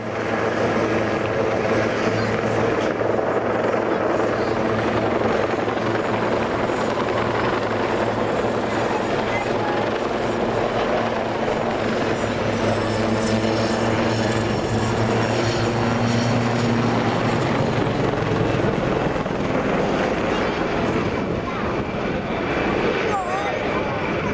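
A Royal Navy Wildcat helicopter flies past at the 2015 Navy Yeovilton airshow, its steady rotor and engine drone loud and continuous, with an announcer's voice over the top.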